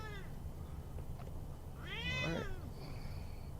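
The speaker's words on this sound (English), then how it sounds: "we have got the cat on the scene" A cat meows twice, clear rising and falling cries, the second longer and louder, close by over a steady low background hum during a Walkabout Mini Golf game.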